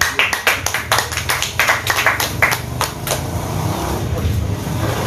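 Hands clap at a press gathering with local media in a coffee shop in Samosir regency, starting as distinct, fairly loud claps that blur into a denser smattering, with a low vehicle rumble and faint voices beneath.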